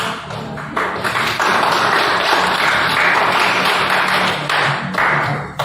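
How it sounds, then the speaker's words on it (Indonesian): Steady applause from a classroom audience after group 3's presentation, dense clapping sustained near and loud for several seconds with no voices over it. "Beri tepuk tangan"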